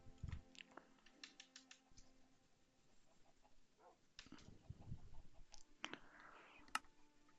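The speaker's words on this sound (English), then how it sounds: "I'm just going to type in botanist." Keys tapping on a computer keyboard while a search term is typed during a modded Minecraft survival session, with quiet irregular clicks in short bursts and other game sounds in the background.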